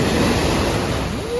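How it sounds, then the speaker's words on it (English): Surf breaks loudly at Jensen Beach in Martin County, Florida, a dense roar of crashing water with wind buffeting the microphone close up. "Watch a big wave here."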